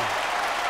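Audience applause at a comedy stage show, a brief, dense burst of many hands clapping close and steady, with no voices over it.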